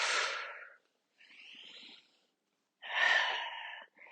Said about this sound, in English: Take a breath in. Exhale it out.